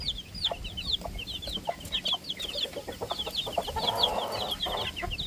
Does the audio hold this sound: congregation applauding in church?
no